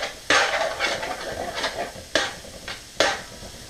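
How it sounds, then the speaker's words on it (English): Onions and curry seasoning fry in hot oil in a pot for goat curry, a steady close sizzle broken by several sharp scraping stirs and clanks of a spoon against the pot. "you just want to let this fry in your oil here for about 5 minutes on a high heat"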